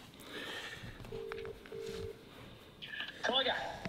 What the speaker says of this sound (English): So I'm going to ring Adam Ross as well